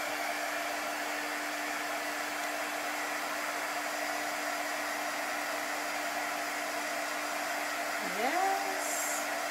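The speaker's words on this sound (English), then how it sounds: "I'm gonna dry it really well." A hair dryer blows steadily on a board freshly coated with chalk paint, a loud, close, continuous whooshing hum with a brief pitch wobble near the end, no talking.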